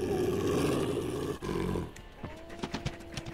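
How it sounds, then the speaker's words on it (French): In the video game WolfQuest, a wolf growls at grizzly bears, a loud rough roaring growl for nearly two seconds, then a quieter stretch of short scattered calls and creature sounds. "J'essaie de grogner en même temps pour essayer de leur faire peur."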